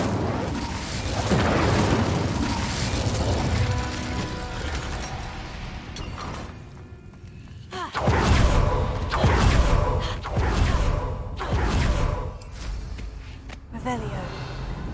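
Fiery spellcasting in Hogwarts Legacy, the Incendio fire spell, rendered as repeated deep booming bursts with crackling roar, loud and close, several blasts swelling over game music and effects; the last ones come in quick succession.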